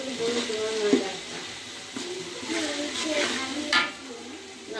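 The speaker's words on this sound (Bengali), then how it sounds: "5 থেকে 6 মিনিট আমি ভেজে নেব" Spices frying in a pan for a layer chicken curry, a steady close sizzle with stirring scrapes and light clinks of a utensil against the pan.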